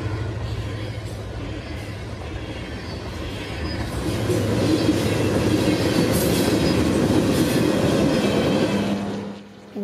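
Train 0910 pulling out toward Lakeland, a steady rumble and wheel clatter from passing cars that swells louder partway through, then drops off abruptly at the end.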